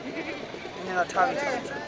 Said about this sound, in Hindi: ये बकरी आपकी है ना?